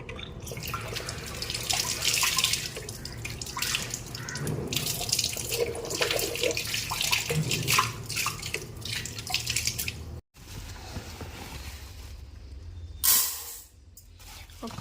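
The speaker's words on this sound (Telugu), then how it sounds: "రైస్ కడగాలి." Tap water runs into a sink while rice is washed, a steady close splashing hiss with drips, briefly cutting out near the end before a louder gush.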